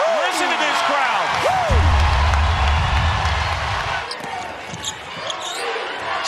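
A basketball arena crowd at an NCAA women's tournament game roars and cheers loudly after a string of blocked shots, with squeaking sneakers and a bouncing ball mixed into the sustained, echoing noise.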